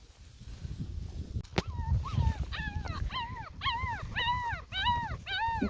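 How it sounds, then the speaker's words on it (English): Several young puppies whimper and whine in a pasture, a series of high, rising-and-falling cries coming in quick succession close to the microphone, growing more insistent toward the end. "Got some Bobby Joe puppies out here"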